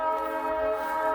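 A steady tonal drone like a train horn or whistle sounds from a distance, holding evenly for about a second with no talking.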